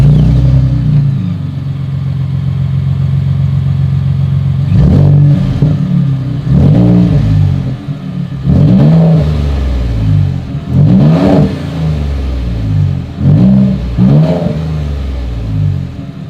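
A Ford F-150 Raptor's exhaust, recorded close and loud. It starts with a rumbling idle, then the throttle is blipped about six times in quick succession, each rev rising sharply and falling back to idle.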